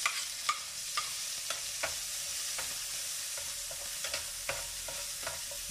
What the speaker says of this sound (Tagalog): Dito natin tayo magigisa, guys. Sa pinagprituhan, kasi mas masarap siya. Unahin natin ang sibuyas.